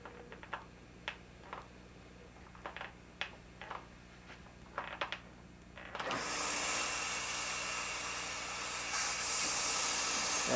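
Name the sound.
vacuum pump running, reducing chamber pressure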